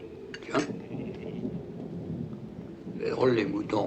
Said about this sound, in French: C'est peut-être l'orage qui les affole.